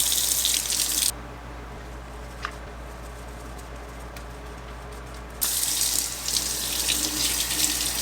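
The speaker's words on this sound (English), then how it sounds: "rinse it all off" A makeup brush cleaning mat rinsed under a running tap, loud steady water flow that cuts off for a few seconds and then resumes, close by.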